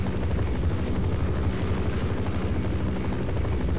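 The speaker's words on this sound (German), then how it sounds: "Da kommt auch noch ein Heli." A helicopter in the video game Half-Life: Source, heard as a steady, loud rotor drone with a pulsing low thump that continues unbroken and without voices.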